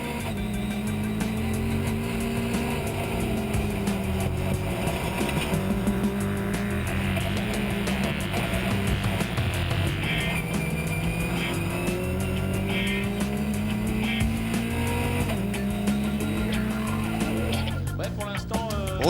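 Mitjet race cars battling for the lead at the Lédenon circuit, a steady engine drone with shifting pitch and no letup, loud and close throughout.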